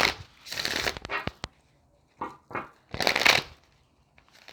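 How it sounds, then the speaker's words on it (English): Oracle cards are shuffled by hand in several quick riffling bursts separated by short pauses, close and clear with no talking. "One more shuffle."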